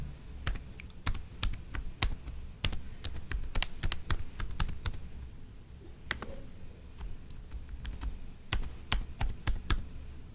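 An email address is typed on a computer keyboard, with irregular bursts of crisp close key clicks over several seconds and short pauses between runs, with no speech.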